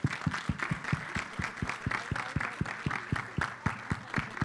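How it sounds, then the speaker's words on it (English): A trailer-launch crowd applauds the film team of Omung Kumar's Sarbjit, a steady run of close, rhythmic claps with a softer spread of clapping behind, moderately loud and without pause. "Everybody applaud them."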